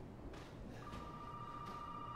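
A telephone rings faintly in the Resident Evil 7 video game, a thin steady electronic tone against a hissy background with a few soft knocks, and no one speaking.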